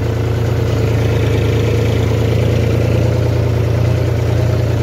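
Several tractors with their engines running, lined up and pulling away from a weighbridge, giving a steady, loud low idling rumble with constant vibration and no break.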